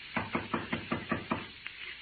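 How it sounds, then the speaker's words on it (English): Seven evenly spaced knocks on a door, close and moderately loud, followed by one softer knock, set in a 1952 radio drama. "Shall I knock now?"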